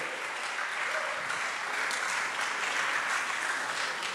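A teenagers' conference audience claps for a participating school, a steady, even wash of many hands filling the whole stretch without letting up.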